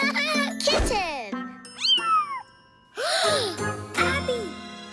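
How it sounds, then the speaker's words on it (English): A cartoon kitten meows several times in high, bending cries, mixed with tinkling chimes and a voice in a children's animated show. "Kitten!"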